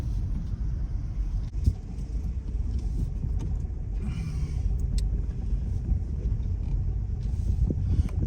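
A car drives through the streets of St Peter Port, Guernsey, giving a steady low engine and road rumble from inside the cabin with a few small clicks and rattles, and no talking.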